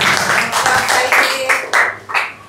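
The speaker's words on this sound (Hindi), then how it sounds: "तालियां तो बजा दिया" Audience clapping at a school Urdu elocution competition for junior students in Kurla, Mumbai, loud and close. Scattered claps swell in uneven waves, mixed with crowd voices and talk.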